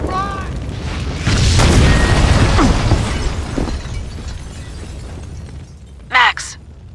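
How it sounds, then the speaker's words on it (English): A building packed with explosives blows up in the video game Max Payne 2, a loud, low, rumbling blast with shattering debris that swells, then slowly fades, followed by a brief sharp crack near the end. "The building's blowing up."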